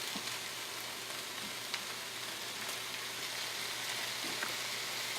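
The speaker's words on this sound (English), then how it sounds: "we're just going to let it simmer with our tomatoes or our prepared salsa" Turkey taco meat simmering in a pan with tomatoes or salsa, a steady quiet sizzle and bubbling with faint occasional pops, no talk.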